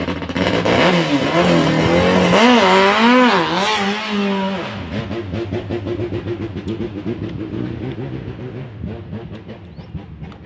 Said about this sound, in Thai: มีเสียงเรือรบกวน